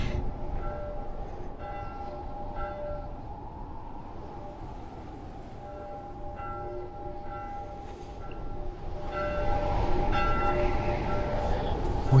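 A bell ringing in The Last of Us video game during a snowstorm, with repeated tolling strokes over a dense, rumbling wind-like bed that swells louder toward the end.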